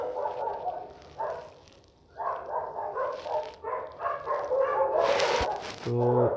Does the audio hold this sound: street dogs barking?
yes